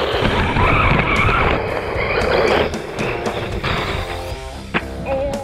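A Wltoys 144002 RC car runs at full throttle, its motor whining steadily over loud, continuous gritty skidding and tire scrabble, with a sharp knock near the end and tonal whines rising afterward.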